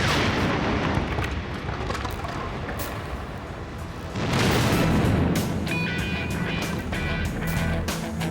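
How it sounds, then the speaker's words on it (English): A tree cannon packed with 5 pounds of gunpowder blows apart in a loud, sustained blast with a heavy booming roar that swells again midway, then trails off into rumbling debris noise. "Myth undeniably proved a tree cannon can explode."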